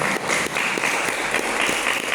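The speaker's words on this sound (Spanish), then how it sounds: "¿Cuántos le dan un aplauso al Señor?" Church congregation applauding at a Spanish-language sermon, steady dense clapping at moderate distance that continues evenly through the whole short stretch.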